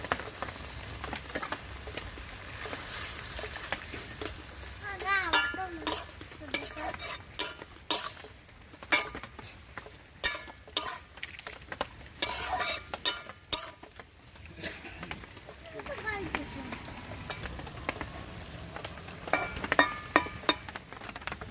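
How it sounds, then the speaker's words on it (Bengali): Brahmi greens go into a pan with small river fish and are stirred, producing irregular scraping and clattering bursts over a soft sizzle, close and fairly loud, with no one talking. "এবারে এই শাকগুলো দিয়ে দেবো"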